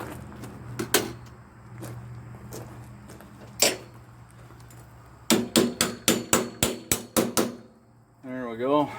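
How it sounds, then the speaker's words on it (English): Parts are hammered during assembly of a BK-200 go-kart, with a few scattered sharp metallic strikes followed by a quick rhythmic run of about nine blows, close and loud, and a brief voice at the end. "Hammer in a little bit."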